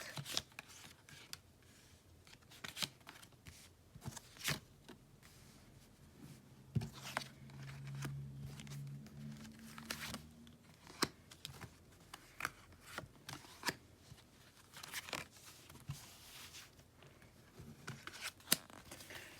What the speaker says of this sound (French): on commence à mettre les cartes.